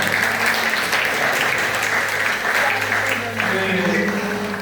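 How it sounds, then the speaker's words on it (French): A church congregation at a gospel service applauds, with loud, continuous clapping throughout over a steady low hum, dipping briefly before carrying on. "Applaudissez-vous, s'il vous plaît."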